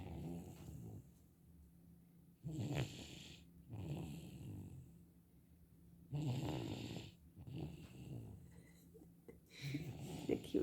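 A sleeping young boy snores in slow, rough cycles, four or five raspy breaths spaced a couple of seconds apart, fairly quiet and close, with faint breathing between snores.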